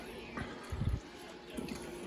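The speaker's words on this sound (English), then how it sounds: "Lastly, I'm gonna put the water in" Warm water is poured into a bowl holding active yeast for challah bread dough: short, soft splashing bursts near the start and again later, over a quiet room with no speech.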